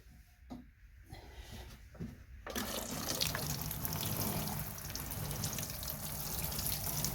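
Water pours steadily from a watering can onto compost in a garden bed, a soft continuous splashing that starts after a few quiet seconds of faint handling noise and keeps going at an even level.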